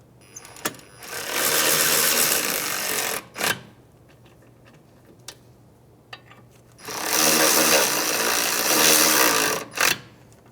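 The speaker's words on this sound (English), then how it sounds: "We're going to snug these bolts up" A power tool snugs up the caliper bracket bolts on a 2003-2011 Honda Element during a rear wheel hub job: two loud, close bursts of whirring buzz, each about three seconds, separated by quiet with a few sharp clicks.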